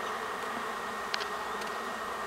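A honey bee swarm by a pear tree hums as a steady dense buzz all the way through, with a couple of louder individual bees zipping close past the listener.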